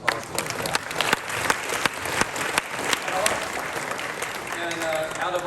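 A room full of people applauds the seniors of a 2001-2002 boys high school basketball team at an athletics hall of fame event, steady clapping with a few sharper claps standing out and faint voices mixed in near the end.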